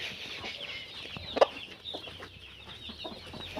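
A broody hen clucks softly in short, irregular bursts against a quiet farmyard background, with one sharper squawk partway through.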